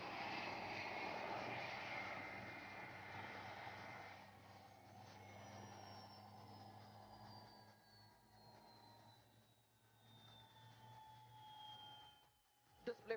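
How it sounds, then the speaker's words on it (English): A Dhruv helicopter of the Sarang display team flies an aerobatic routine at the Aero India 2021 air show, its engine whine sliding steadily downward in pitch as it passes and fades into the distance. "as they fly the Dhruv helicopter to the limits of its operational flight envelope"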